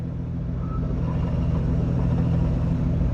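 A 1981 Jeep CJ7 engine runs with the pedal held to the floor, a steady, close, low rumble throughout, no voices.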